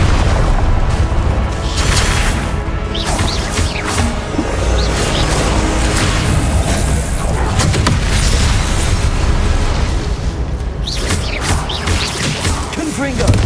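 Confringo spell explosions in Hogwarts Legacy crash out one after another, loud, booming and dense, layered over a constant roar of combat with no pause between blasts.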